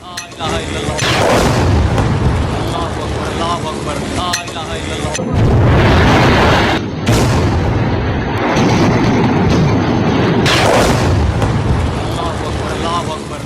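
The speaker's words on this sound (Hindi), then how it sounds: "ये बहावलपुर में एक के बाद एक 4 मिसाइल आकर गिरी हैं" Missile strikes explode one after another on a camp in Bahawalpur, a loud, dense barrage of heavy booms and blasts that rolls on continuously with repeated surges, under a voice.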